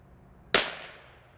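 Ruger Precision Rifle fired at a target on a range: a single sharp report with a hissing, slowly fading tail after a quiet lead-in.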